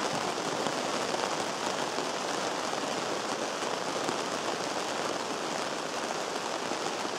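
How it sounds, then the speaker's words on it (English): Steady rain drums on a canvas tent at a campsite around dawn, a dense, even patter that fills the space from close by and carries on without pause, with no voices over it. "Can't beat it, rain on canvas."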